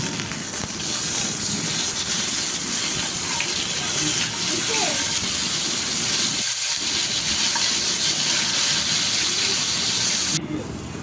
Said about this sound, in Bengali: আর মাছগুলো ভেজে নেব